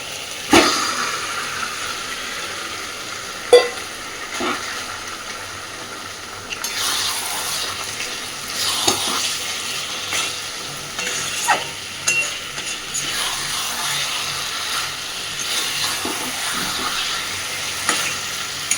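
Chicken pieces are stir-fried in spiced oil in a pan, a loud sizzle with repeated scraping and stirring strokes that intensify after the first few seconds, plus a couple of sharp clanks.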